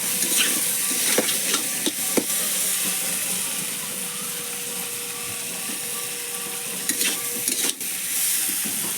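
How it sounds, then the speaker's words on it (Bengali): Onions fry in a pan with a loud, steady sizzle, punctuated by sharp scraping and clinking stirs at the start and again toward the end, heard up close without talk. "পেঁয়াজ ভালো করে ভাজবো"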